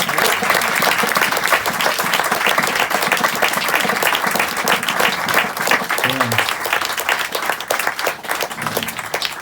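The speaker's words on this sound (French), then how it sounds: "Et je vous demande d'applaudir à la contrebasse" A concert audience applauds the double bass player with dense, lively clapping throughout, while a few faint voices come through underneath.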